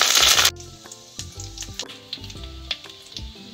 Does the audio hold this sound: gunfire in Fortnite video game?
no